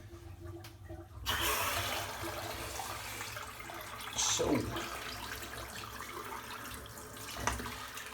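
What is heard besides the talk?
water running from tap for shaving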